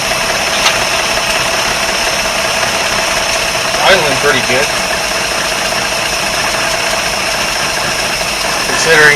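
An engine idles steadily after being started despite having sat unused, with a constant mid-pitched running drone and a few brief clanks and rattles; no speech over it.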